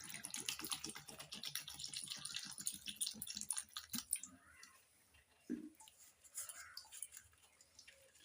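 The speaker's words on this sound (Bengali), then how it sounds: "টমেটোগুলো জল দিয়ে ধুয়ে নিয়েছি," Tomatoes are rinsed under running water in a kitchen, giving irregular close splashing and dripping with wet squishing as they are handled, fading to sparser trickles and a few knocks partway through.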